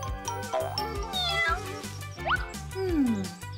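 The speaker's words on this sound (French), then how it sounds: "Il y a toute une famille de chats ici." Cartoon cat meows over steady background music, several rising and falling mews in a row across a few seconds, with no talking.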